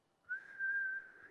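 Whistle-like tone blown through rounded lips, a single steady pitched note lasting about a second, soft and close, alone without talk.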